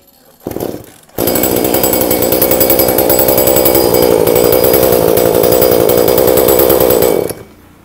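A Japanese Honda two-stroke brush cutter engine gives a short sputter, then runs loud and steady at a constant buzzing pitch for several seconds before stopping.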